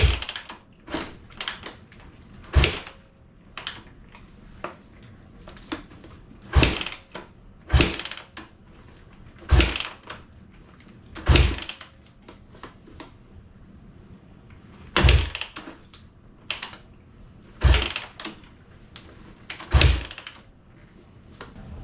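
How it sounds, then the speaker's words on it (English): Honda CRF150R dirt bike being kick-started over and over without firing, sharp mechanical thunks at irregular intervals of one to three seconds, each followed by a brief clatter, no engine catching. "I kicked the bike for 10 minutes before realizing I didn't plug the ignition back in"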